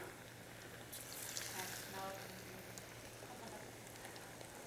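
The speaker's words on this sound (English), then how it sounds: "can you hear that sizzle?" A soft, continuous crackling sizzle like food frying in hot fat, faint and steady with a low hum underneath.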